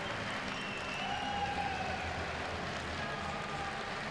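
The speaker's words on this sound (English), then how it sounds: "Big round of applause as well from the audience here." Audience applause rings out after climber Kwixin Zong takes bronze at a lead-climbing World Cup event in Perm, a steady, moderately distant wash of clapping that fills the whole stretch without any talking.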